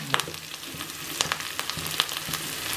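Onions and curry leaves fry in a pan for mushroom chukka, a steady close sizzle broken by a few light clinks of a spoon stirring.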